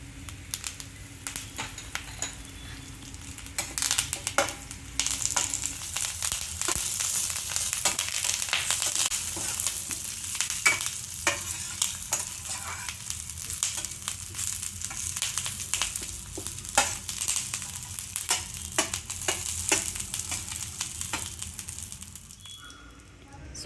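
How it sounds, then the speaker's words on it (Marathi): Dry coconut roasting in a very hot pan alongside dried chillies and curry leaves, a steady close sizzle with scattered crackles and scraping stirs throughout, fading near the end. "सुकं खोबरं आता मी त्याच साईडला घालते आहे पॅनमध्ये. ते पटकन भाजून होणार आहे कारण ऑलरेडी पॅन खूप तापला आहे."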